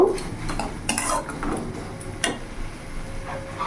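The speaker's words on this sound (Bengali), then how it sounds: "ভালো করে নাড়াচাড়া করে নেব" A spoon stirs ginger-garlic-chili paste in a hot pan, with soft scraping, a couple of sharp metallic clinks and a faint sizzle underneath, close and fairly quiet.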